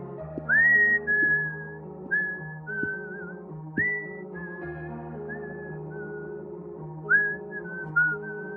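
A man whistles a slow, wavering tune, rising notes held over a steady low musical drone, several phrases with short pauses, close and fairly loud.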